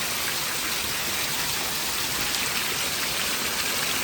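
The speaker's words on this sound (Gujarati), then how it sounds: "વરસાદ પડે ફૂલ." Heavy afternoon downpour falls in a constant, dense patter and hiss close at hand, loud and unbroken, with no voices over it.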